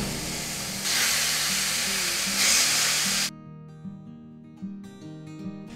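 500 grams of ground beef frying in a pan with a browned onion and two garlic cloves, giving a loud, steady sizzling hiss that cuts off partway through, leaving only light background music.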